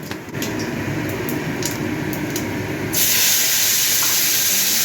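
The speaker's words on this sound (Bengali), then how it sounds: "শুকনো লঙ্কা ফোড়ন দিলাম, 5 ফোড়ন দিচ্ছি।" Dry red chillies and five-spice tempering sizzle in hot oil for a green-mango chutney, a steady close hiss with a few light crackles that swells into a louder, brighter sizzle partway through, with no voices.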